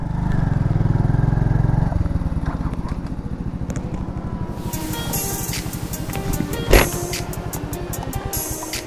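A Honda CD 70 motorcycle (2020 model) on a hill ride, its small single-cylinder engine putting steadily at close range, a loud rush of wind and road noise early on, then a lower idling-like thrum with clatter.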